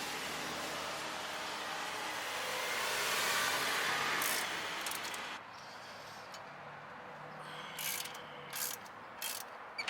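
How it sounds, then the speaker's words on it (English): A ratchet wrench loosening the two 18mm brake caliper bolts on a Mercury Grand Marquis, heard as steady mechanical clicking and grinding close by with a few sharper ticks near the end, no talk. "Remove the two 18mm caliper bolts."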